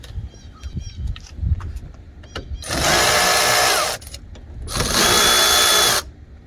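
A cordless tool turns a 10 millimeter socket to remove the battery cables on a 2009 Chevy Silverado, whirring in two bursts of about a second each, with clicks and clanks of handling between them.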